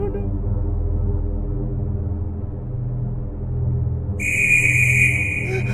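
In a Thomas train video game, a loud, sustained high whistle sounds over a low droning engine rumble near the end, clear and steady after a long stretch of humming.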